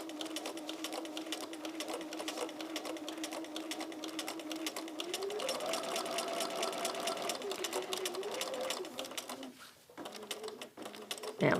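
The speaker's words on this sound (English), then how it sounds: "Now I'm just stitching over the line that I went in on till I get to the next line and around." A sewing machine quilts stitches through a layer cake quilt, a fast steady mechanical whir with rhythmic needle ticking that shifts pitch as speed changes, pausing briefly near the end before resuming.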